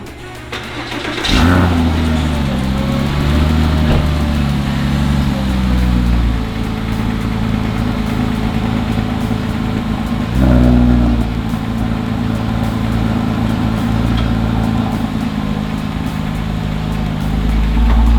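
A car engine cranks and catches, then settles into a steady, loud, low idle for the rest of the clip, with a brief rise in revs midway.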